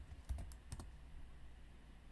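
Computer keyboard keys pressed while pasting a web address into a browser bar, a quick cluster of about five soft clicks in the first second, faint and close, then quiet.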